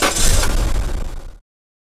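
A car engine cranks and fires during an ignition timing check, a loud broadband rush and rumble for about a second and a half before cutting off abruptly into silence.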